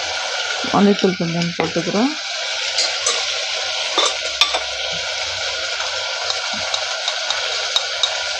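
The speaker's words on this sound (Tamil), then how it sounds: "போட்டு வதக்கிக்கிறோம்." Spices and mutton sautéing in a pan, a steady sizzle and fry under scraping stirring strokes, with a brief burst of voice near the start and occasional utensil clinks.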